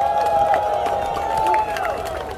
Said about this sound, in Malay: Tepuk tangan anda semua.